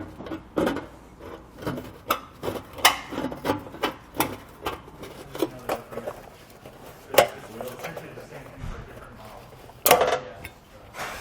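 Tin snips trim the metal heat shield under a 2016 Subaru Outback, making a steady series of crisp, close metallic snips and scrapes at a regular cutting rhythm.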